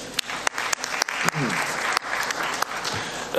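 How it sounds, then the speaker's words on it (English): Delegates at a football confederation general assembly applaud in a conference hall, steady clapping from a crowd with sharp, loud slaps standing out near the microphone. A voice briefly sounds over the applause. "Can we clap hands for them?"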